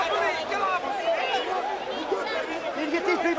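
A crowd of people mills around inside a boxing ring after the Allen Green vs Jaidon Codrington fight, a close, chaotic babble of many overlapping voices with no single voice standing out.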